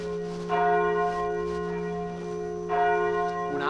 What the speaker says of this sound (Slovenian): V naši župniji moramo preveriti, če zvonovi delujejo. In to ne moremo storiti drugače, kot da zvonimo.